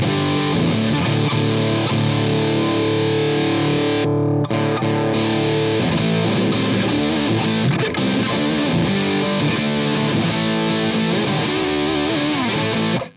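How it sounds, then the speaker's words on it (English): Electric guitar through a BOSS DS-1 distortion pedal with the distortion turned all the way up, a loud, dense, saturated rock tone played continuously with one brief gap near the start. "And with the distortion all the way up, you don't get much more."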